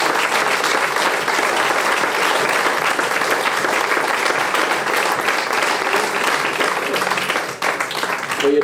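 A church congregation applauds the Lord together, a dense, steady wash of clapping that fills the room at high volume for several seconds before thinning slightly near the end, with faint voices mixed underneath.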